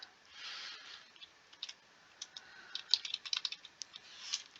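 Someone types HTML tags on a computer keyboard, producing irregular bursts of crisp key clicks with short pauses between words, close and clear in a quiet room.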